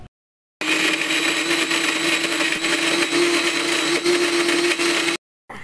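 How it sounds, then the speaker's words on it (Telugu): A kitchen mixer grinder blends a paste of tindora pickle with tamarind and water, giving one continuous loud whirring drone for about five seconds that starts and stops abruptly, with silence before and after and no talking. "నేను లైట్గా వాటర్ యాడ్ చేసుకొని మళ్ళీ మిక్సీ చేసుకున్నానండి"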